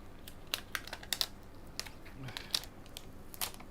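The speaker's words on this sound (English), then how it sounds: "I am going to peel this off" Adhesive material is peeled off a MacBook Air A1465 laptop at close range, making quiet, irregular crackles, ticks and sticky snaps scattered across a few seconds.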